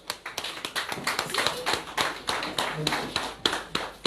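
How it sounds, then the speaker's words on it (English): Clapping from a small group at an advocacy event outdoors, distinct uneven claps in loose rhythm, fairly close, with background voices mixed in. "let's show applause"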